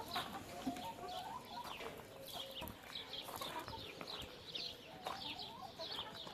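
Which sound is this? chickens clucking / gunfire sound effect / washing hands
chickens clucking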